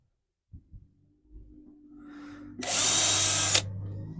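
A cordless power drill drives a screw into a campervan kitchen build, with a low motor whine and then a loud one-second burst as the screw seats, preceded by a couple of small knocks.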